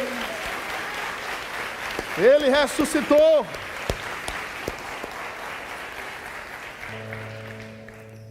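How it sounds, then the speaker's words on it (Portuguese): A church congregation breaks into clapping during a sermon, a steady wash of applause under a preacher's loud, exclamatory voice that fades toward the end. "Aplauda ao Senhor."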